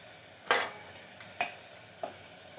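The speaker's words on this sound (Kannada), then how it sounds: "ಮತ್ತೆ ಚೆನ್ನಾಗಿ ಕೈ ಆಡಿಸ್ಕೊಳ್ಳಿ." A spoon stirs radish curry with chilli powder, cumin and sambar powder in a pan over a soft steady sizzle, giving three distinct scraping knocks that grow fainter, no talk.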